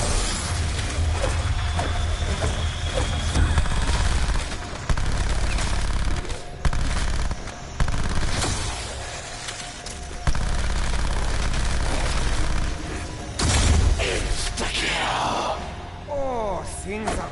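Rapid bursts of gunfire from Black Ops 4 zombies mode crackle throughout, with loud volleys and brief pauses, while people talk over the action.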